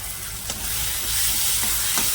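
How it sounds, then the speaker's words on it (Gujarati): Tomatoes and carrots sautéing in a pan for Indian-style pasta, giving a dense continuous sizzle with a couple of soft stirring scrapes, close and fairly loud, no voices. "ટમેટા ગળી ન જાય જ્યાં સુધી આપણે આને શેકી લેવાના છે"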